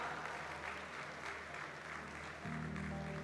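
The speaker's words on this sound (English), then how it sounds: "Can we have a huge round of applause for the Ashna?" Applause from a conference audience at the ICAI UDAN event for treasurer CA Ashna Mulgaonkar: a continuous, fairly soft wash of clapping hands that holds steady throughout, with a low tonal hum entering near the end.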